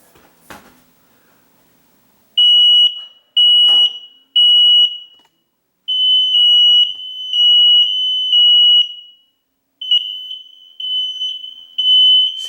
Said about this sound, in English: now I've got to reset the smoke alarm